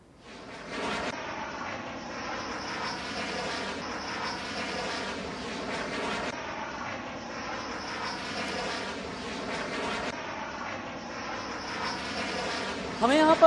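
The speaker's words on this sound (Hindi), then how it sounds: "ये रही वो तस्वीर जब राफेल फाइटर जेट रनवे पर अप्रोच कर लैंड कर रहे हैं।" Rafale fighter jets approaching and landing on a runway, a sustained loud engine roar that holds steady throughout with slight pulsing, rising sharply at the very end.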